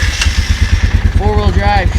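A four-wheel-drive vehicle's engine, just jump-started after a dead battery, runs with a steady low, throbbing idle pulse, close and continuous, while someone talks over it.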